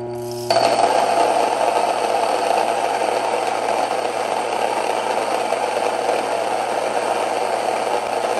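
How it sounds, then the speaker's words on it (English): An electric grain mill grinding wheat berries starts abruptly and then holds a loud, steady, rattling whir close by, with no voices over it. "I turn it on, and then you add the wheat berries and it will grind."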